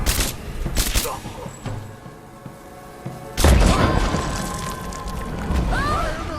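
Gunfire from a Tomb Raider game crackles in sharp bursts, a few scattered shots then a heavy loud volley with booms and crashes that keeps rolling, with game sound effects around it.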